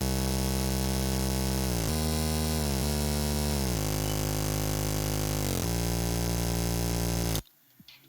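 A dense buzzy synth bass line from the Silence synth plays sustained notes with pitch steps and slides for a progressive house track, loud and unaccompanied, then cuts off abruptly.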